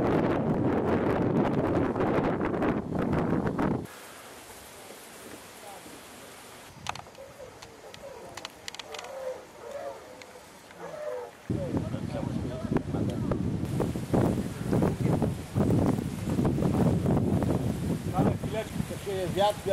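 Wind buffets the microphone in heavy gusts at a lakeside fishing competition, dropping briefly before roaring back, with voices talking underneath.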